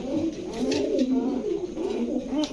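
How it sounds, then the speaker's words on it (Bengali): Pigeons coo steadily throughout, several overlapping low throaty calls rolling on close by with no pause. "দেখেন দর্শক কবুতরগুলা"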